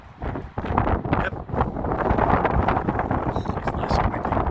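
Strong wind buffets the microphone outdoors beside a truck on a haul between Caldwell, Idaho and Pendleton, Oregon, a loud continuous rumbling roar with gusty swells that never lets up.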